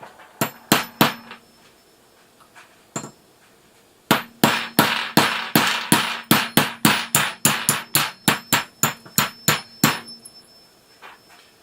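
A hammer strikes a 1/4 inch punch repeatedly, a few sharp metallic blows, a pause, then a fast steady run of about twenty ringing hits, loud and close.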